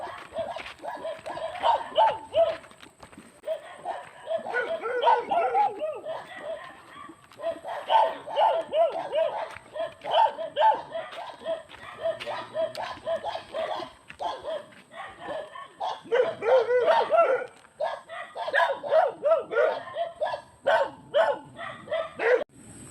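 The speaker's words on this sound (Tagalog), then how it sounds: "nakabang na yung mga aso" Several dogs bark repeatedly at a moderate distance, with yips and whimpers mixed in, keeping up an irregular chorus throughout.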